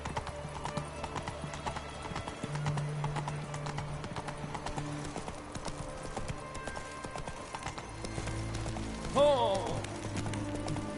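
Hooves of Roach, a horse in The Witcher 3, clip-clopping in a steady trotting rhythm, with a brief whinny near the end and faint background game sounds.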